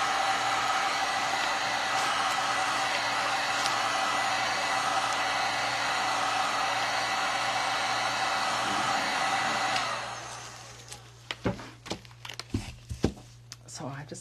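A hair dryer blows steadily at close range, drying paint on a thrifted piece being refinished with paint inlays and decoupage paper, then cuts off near the end, leaving crinkling paper handling and someone talking.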